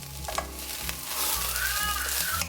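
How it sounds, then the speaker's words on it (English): Onions sautéing in a pan, a steady close sizzle with light stirring scrapes and brief clanks, heard alone. "the onions are being sauteed"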